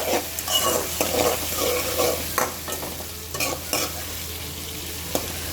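Onions and tomatoes for a fish curry fry in a pan with a steady sizzle, broken by repeated scraping strokes of a stirring spoon, close and fairly loud, with no talking.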